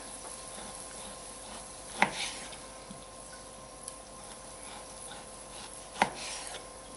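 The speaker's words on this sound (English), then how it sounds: "Now, I'm going to slice my pepperoni." A knife slices pepperoni on a board for a low-carb broccoli salad. A quiet background carries two distinct sharp chops, a few seconds apart, plus a faint tick between them.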